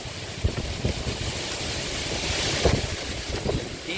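Gusty blizzard wind on a street roars and buffets the microphone, a constant rushing noise with occasional thumps, no voices.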